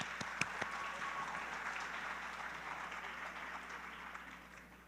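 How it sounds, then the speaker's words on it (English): An audience at a Bharatanatyam dance recital applauds steadily, a broad wash of clapping at moderate distance that stays even for several seconds. "Could we get another big round of applause for them?"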